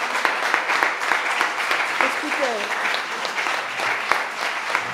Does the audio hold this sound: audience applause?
yes